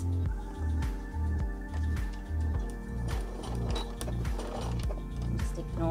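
A sewing machine tacks PUL nappy cover fabric in place with rhythmic, repeated mechanical stitching pulses, close and clear, with faint talk in the background.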